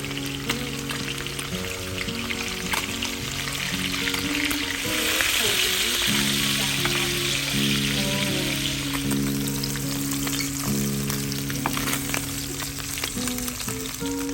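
Fish seasoned with Old Bay fries in oil for fish tacos, a loud continuous close sizzle with crackling spatter and a low steady hum beneath, no talking.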